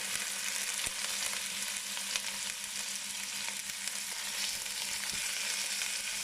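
Pork sautéing in a pan gives a steady, close sizzle and crackle with occasional stirring scrapes, continuous throughout and without speech.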